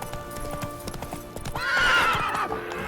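Roach, the horse in The Witcher 3, gallops with steady rapid hoofbeats, then lets out a loud, close whinny over the running rhythm.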